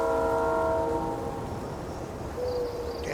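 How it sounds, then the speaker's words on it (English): A loud train passes in the video game Farming Simulator 22 with a sustained, multi-tone horn blast at first, then a rumbling roll of rail cars and a squeal near the end. "boy, that train is loud."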